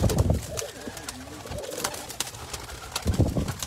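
Teddy pigeons for sale, cooing softly in low repeated coos against a faint, busy background.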